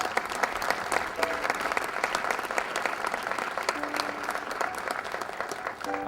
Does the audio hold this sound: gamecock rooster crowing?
no